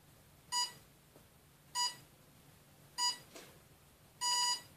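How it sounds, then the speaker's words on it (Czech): An RC car's electronic speed controller gives four short, clear electronic beeps at even intervals, the last held slightly longer, sounding alone and fairly quiet during programming of the motor brake setting. "První čtyři pípnutí"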